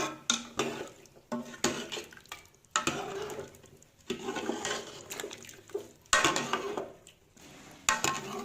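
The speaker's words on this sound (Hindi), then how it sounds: "अब हम इसे चम्मच की मदद से अच्छी तरह से मिक्स कर लेंगे।" A metal spoon stirs masala in a cooking pot, scraping and clinking against the sides in uneven, busy strokes with soft sizzling underneath, close and moderately loud.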